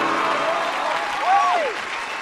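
Audience applause at a children's singing talent show, a steady wash of clapping throughout with a whistling or tonal sweep rising and falling partway through.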